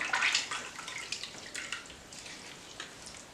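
Running tap water splashes steadily over lemons being rinsed at a sink while making lemonade, close and continuous, with no voices.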